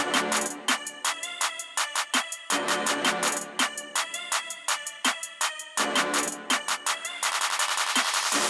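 Rapid bursts of gunfire ring out in Valorant during a professional Gen.G versus T1 esports playoff match, loud repeated shots in quick clusters with short gaps, ending in a denser burst as the headshot lands; no voices over it.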